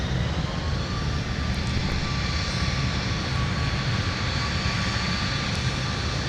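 A jet airliner rolls for takeoff at Minneapolis–St. Paul airport in winter, a loud sustained engine roar with a steady high whine, dense and unbroken throughout.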